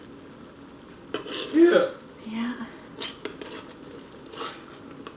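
A utensil stirs ground meat and vegetables, including red pepper, in a pan for cottage pie, giving intermittent scraping and clinking strokes over a faint sizzle, with a brief spoken word partway through.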